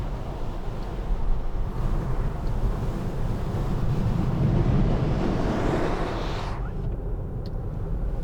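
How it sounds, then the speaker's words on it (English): Steady broadband wind rush inside a 2013 Land Rover Freelander 2 SD4 while driving, loud and constant for several seconds, then easing suddenly near the end as a front wind deflector deploys, with no talk. "Bit of wind noise there until the wind deflector at the front deploys"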